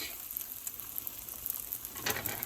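Roti skin cooking in a pan over medium heat, a soft continuous sizzle with faint crackles, close and fairly quiet, swelling slightly near the end, no talk.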